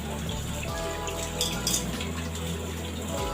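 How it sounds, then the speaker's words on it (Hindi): Cold water runs steadily from a tap over cooked bottle gourd in a strainer, a continuous close splashing flow with light spatters and no talking. "अब मैं इसको अच्छे से पहले ठंडे पानी से वॉश कर लूँ, क्योंकि ये बहुत गर्म है"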